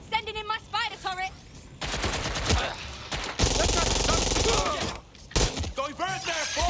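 Gunfire and clashing action sounds in the video game Watch Dogs: Legion, sustained loud bursts mixed with shattering and game voices.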